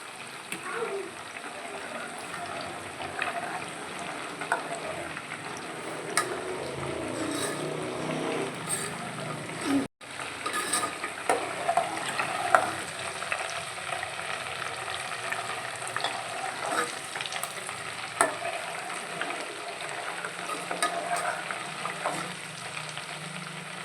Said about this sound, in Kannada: ನೋಡಿ ಈಗ ಕುದಿಯೋದು ಕಡಿಮೆಯಾಗಿ ಬುರುಗು ಬರ್ತಾಯಿದೆ